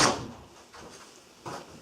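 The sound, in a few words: door opening as someone walks in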